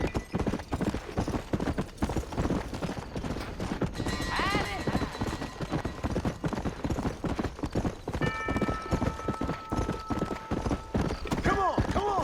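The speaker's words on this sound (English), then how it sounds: "Horse won't go any faster!" A horse gallops in the Red Dead Redemption video game, with fast, rhythmic hoofbeats running steadily and up close, broken by a couple of whinny-like calls and some voices in the background.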